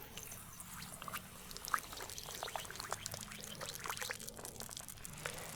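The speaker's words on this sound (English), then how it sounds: "adding it to 8 ounces of water" Water poured into a container in a quiet room, a soft trickling and splashing stream with small irregular bursts, heard close and fairly faint.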